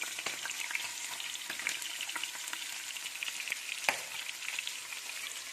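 Chopped onions frying in oil with roasted bay leaf and fennel for a green masala biryani, an even close sizzle with faint crackles and a few light stirs, no voices.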